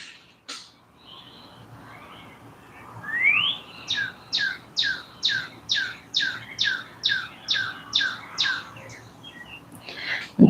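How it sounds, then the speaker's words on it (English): Birds chirp loudly in a steady series of about a dozen sharp, evenly spaced calls repeating roughly every half second, standing alone above faint background noise. "And Tweety birds are getting loud."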